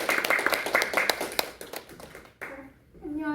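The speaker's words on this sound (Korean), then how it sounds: "박수 한번 부탁드립니다." Audience applause for a poet at a small art-space poetry reading, a short burst of many hands clapping close by that thins out and gives way to a voice speaking.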